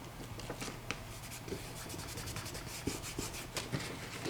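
Folded paper is rubbed by hand to crease the pleats of a small accordion book, giving soft, continuous scraping and brushing strokes with occasional sharper taps, close and quiet, with no talking.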